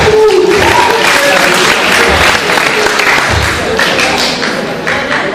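Audience applause at a live magic show: sustained, fairly loud clapping from a crowd, steady throughout and tapering slightly at the end.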